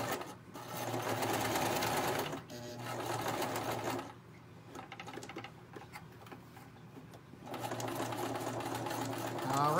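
A domestic sewing machine runs in bursts while stitching around a fabric drawstring gift bag, close and loud, with a whirring mechanical rattle that stops, resumes softly, then starts again.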